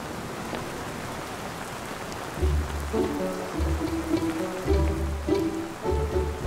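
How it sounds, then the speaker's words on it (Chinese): Rain falls in a steady patter throughout, and partway through low tonal music swells in and plays over the continuing downpour. "没想到今天会下雨啊。"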